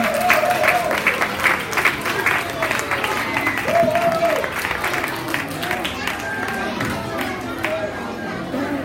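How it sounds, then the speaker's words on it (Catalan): Audience applauding a fourth-grade class prize winner at a school poetry award, steady dense clapping from a crowd throughout, with children's voices and chatter mixed in. "Un fort aplaudiment per Pablo."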